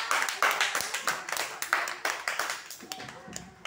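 Children in a classroom clap for a classmate who found India on a globe, a run of rhythmic hand claps in quick bursts with a teacher's voice in the background.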